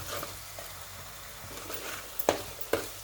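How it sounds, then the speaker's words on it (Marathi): Tamarind juice hits a pan of frying vadas fish masala, a steady low sizzle with two sharp splashing bursts near the end as the liquid goes in. "आता ह्याच्यात चिंचेचा रस पण आपण टाकून घेऊया."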